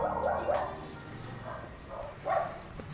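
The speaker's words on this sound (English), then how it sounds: "Oh, the dogs." Dogs in an alley in Vietnam bark and yip several times in short bursts, at moderate distance, with a few whimpering tones between barks over street background noise.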